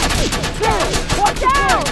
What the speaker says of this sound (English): Got you covered! Under heavy fire!